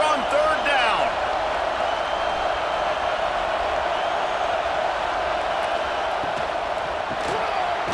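Stadium crowd at an Auburn college football game in NCAA Football 26, a steady wide roar that holds evenly throughout with a broadcast commentator talking over it.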